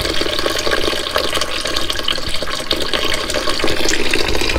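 Steady rushing water pours continuously into a campervan sink, loud and close, with no voices.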